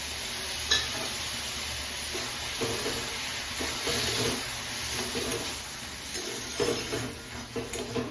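Steady sizzling of red amaranth greens frying in a pan, with scraping, stirring strokes and a few soft knocks of a utensil throughout.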